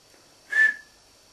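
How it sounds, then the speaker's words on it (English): A single short steam engine whistle sounds in a cartoon railway scene, a clean steady tone lasting about a quarter second, fairly loud against an otherwise quiet background. "You'd better give him a whistle to wake him up."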